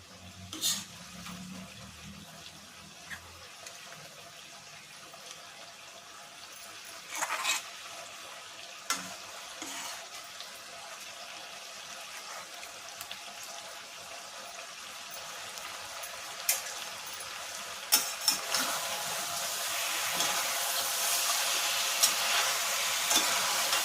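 Onions fry in oil in a pan while cooking a Bengali meat dish, a soft, steady sizzle that grows gradually louder, broken by occasional stirring clinks and scrapes.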